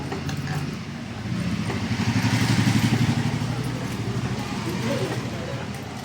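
A sewing machine stitches a prince-cut blouse, running as a steady, close, fluttering mechanical whir that swells slightly in the middle and carries on for the whole stretch.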